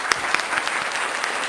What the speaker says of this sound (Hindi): जोरदार तालियों के साथ सुरेंद्र खास